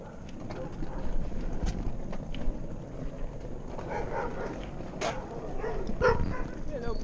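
Dog barks in an outdoor community camp setting, a few short sharp yelps scattered through steady background noise and conversation, with people greeting the animal nearby.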